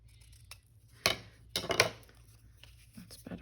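Scissors cutting paper for a junk journal, heard as a few close, crisp snips and rustles scattered over a quiet room tone, with short pauses between cuts.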